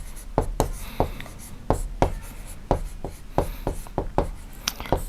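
Chalk or marker writing numbers on a classroom board, sharp close taps and short scratchy strokes in an irregular rhythm, with no talk over it.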